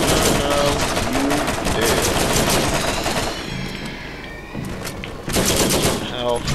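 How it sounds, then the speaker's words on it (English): Video game guns fire in rapid automatic bursts, loud and dense, with a short lull before the shooting picks up again. A voice talks faintly underneath. "With the guns I like to shoot people with."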